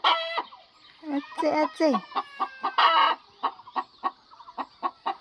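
Chickens, a white hen and a white rooster, clucking and calling in short bursts near the listener, with a brief crow-like cry early on and someone speaking briefly over them.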